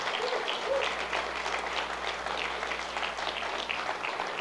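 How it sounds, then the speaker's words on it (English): An audience at an installation party applauds for honored members, sustained dense clapping that stays even and moderately loud throughout, with a low background hum beneath. "Big round of applause"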